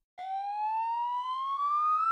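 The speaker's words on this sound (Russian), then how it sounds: "Машина скорой помощи – это специальный автомобиль для перевозки в больницу" Cartoon ambulance siren, a single steady electronic tone rising slowly in pitch with bright harmonics, loud and continuous with no voices.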